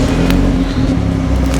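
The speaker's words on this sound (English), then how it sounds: "Praz, start the car for us, please." Engine of a BMW 320i G20 with a Dku performance rear back box exhaust, a loud deep low rumble held steady at close range, no talk.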